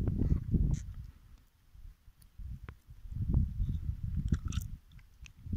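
Goats chew and crunch close by in quiet bursts, with soft grinding and biting sounds rising and fading between brief pauses and occasional light clicks.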